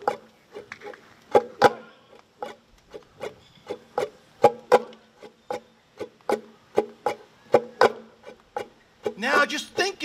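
Muted ukulele strums, strings lightly damped by the fretting hand, make short percussive chucks in a steady groove, a group playing along at a ukulele picnic, with a brighter open strum near the end.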